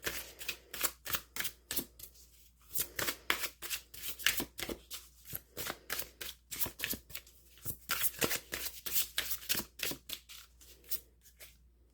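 Oracle cards being shuffled by hand for a pick-a-card reading, a steady run of crisp riffling bursts with short pauses between, close and clear with no talking.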